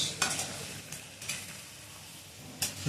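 Onions and chili being stirred in a pan with oil, a soft continuous sizzle broken by several scraping stirs of a utensil, close and fairly quiet, with no voices.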